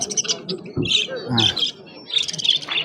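Parrots and finches for sale at the Bukhara bird market chirp and squawk in quick, close bursts, mixed with voices talking nearby.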